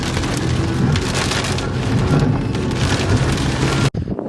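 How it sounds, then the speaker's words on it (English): A big hailstorm in Australia pelts a hard surface with a loud, dense, continuous clatter of hailstones, close by and unbroken, before stopping abruptly near the end. "Big hailstorm."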